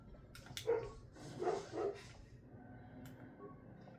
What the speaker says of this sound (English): Ignore the barking noise.